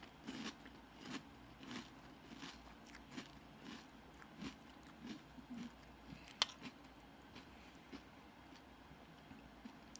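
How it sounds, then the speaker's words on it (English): Someone eats crunchy Magic Spoon cereal up close, with quiet, rhythmic crunching bites and chewing that repeat steadily and sometimes sharpen into a louder crack. "This is a major test of my talent of eating noises."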